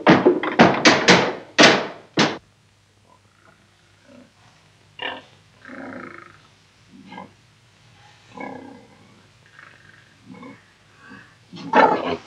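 Pigs grunting in a farmyard pigsty, with a burst of loud, close, rough grunts and snorts at the start, followed by quieter scattered grunts and shuffling before another loud grunt at the end.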